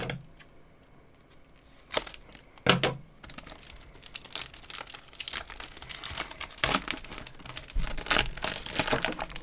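Sealed plastic wrapping on a Zombicide Black Plague board game box being cut and pulled open, giving close crinkling, tearing and crackling with a few sharp snaps and bursts of rustling throughout.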